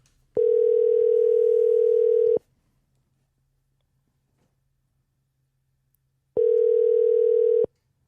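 Telephone tone heard while placing a call: two long, steady electronic beeps, each about two seconds, separated by several seconds of near silence, loud and clean with no one talking.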